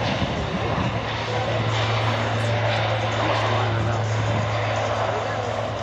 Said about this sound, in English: There goes the airplane. On the takeoff roll right now.